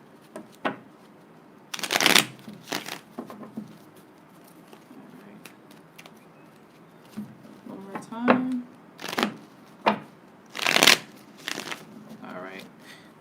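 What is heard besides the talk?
shuffling tarot cards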